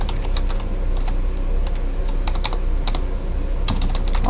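Typing on a computer keyboard, clusters of crisp, close key clicks in irregular bursts over a loud, steady low hum, with no one speaking.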